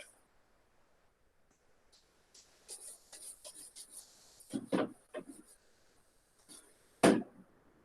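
A pen or pencil scratches out a chemical structure by hand on paper or a board, making intermittent close strokes and taps with short pauses between them.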